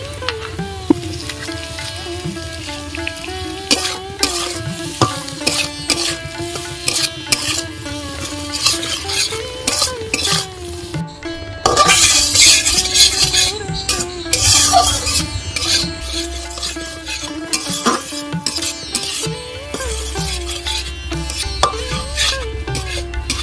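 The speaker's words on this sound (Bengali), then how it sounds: "দেখো আলুগুলো আমি ভালো করে নাড়িয়ে চাড়িয়ে একটু ভেজে নিয়েছি।" Boiled potato pieces fry in a pan while being stirred, a continuous sizzle with frequent clattering scrapes and knocks of the spoon, a louder burst of frying midway, with background tones running underneath.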